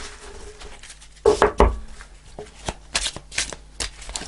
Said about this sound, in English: let's pull an angel answer card before we get onto the tarot cards